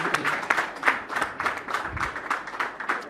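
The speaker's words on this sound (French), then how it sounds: "On applaudit encore." An audience at a televised talent show claps together in a steady patter of applause, moderately quiet and sustained throughout.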